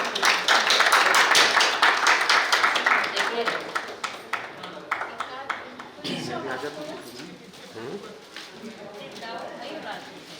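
A group of people at a housewarming clap in a steady, loud rhythm that fades after about five seconds, giving way to voices talking.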